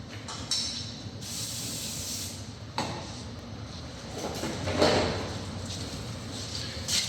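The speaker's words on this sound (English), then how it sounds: "a bit of brake clean, a little brush" Brake cleaner hisses from a spray can onto the caliper sliders of a BMW X3, coming as several short, close bursts of airy spray over a steady background with no one talking.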